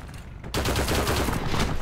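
Dense, loud gunfire from Heroes & Generals, a World War II shooter, erupting after a brief lull into a sustained, rapid barrage of shots that fills the rest of the moment.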